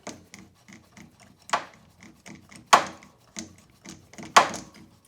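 A ratchet spinning spark plugs out of a Honda Acty engine during a tune-up, giving light repeated ticking clicks with three louder sharp bursts spaced through the stretch, close up with no talk.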